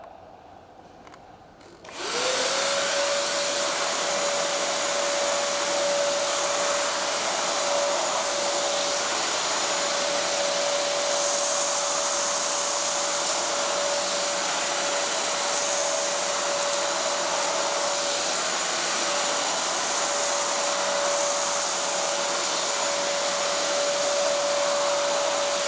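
An INGCO cordless vacuum cleaner switches on after a quiet moment and runs steadily, a loud, constant high-pitched motor whine with broad airy suction hiss that holds unchanged to the end.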